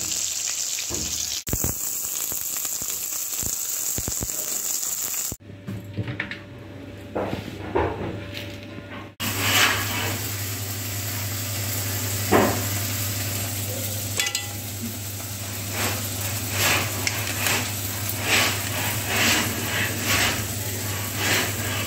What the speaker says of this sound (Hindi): इसको मैं तड़का लगा रही हूँ